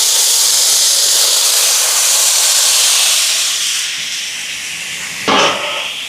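Ginger, garlic and tomatoes sautéing for chicken curry: loud, steady hissing sizzle that eases slightly midway, then a brief sharp clatter near the end, no talking.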